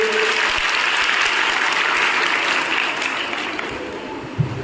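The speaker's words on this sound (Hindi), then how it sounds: "मुझे जोर से तालियां बजाइए।" Loud, sustained applause from a large audience at a Brahma Kumaris event held in a girls' college hall, a dense wash of clapping that continues steadily throughout and eases slightly near the end.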